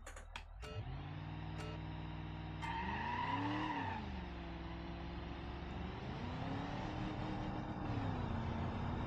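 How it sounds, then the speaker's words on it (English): A car in BeamNG.drive skids and spins out, tires squealing in a long wavering screech over a revving engine, near and loud, after a few sharp clicks at the start. "And I spun out."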